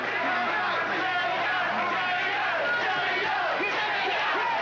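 A boxing crowd in an Atlantic City arena roars in a steady, dense wash for the underdog Jimmy Young, loud and continuous, with no clear break.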